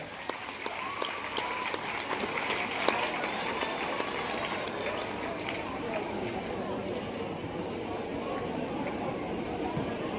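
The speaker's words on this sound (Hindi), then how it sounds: "जोरदार तालियां इन बच्चों के लिए बजाएं।" Steady applause from an audience for children called up on stage at a road-safety helmet awareness event, continuous and fairly distant, with crowd chatter mixed underneath.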